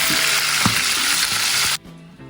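Quail pieces lightly frying in a pan for quail biryani, producing a dense, loud hiss with a few soft knocks that cuts off abruptly near the end, leaving only faint background.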